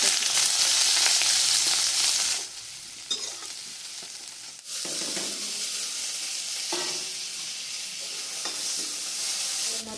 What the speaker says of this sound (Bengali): কড়াইতে তেল দিয়ে গোটা জিরে আর তেজপাতা ফোড়ন দিয়ে দিয়েছি, আর এখানে দিয়ে দেবো পেঁয়াজ কুচি